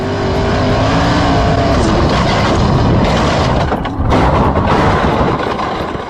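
A sprint car races loudly and close by, its engine roaring steadily with a brief drop in sound partway through, before a crash that flips the car into bushes beside a creek.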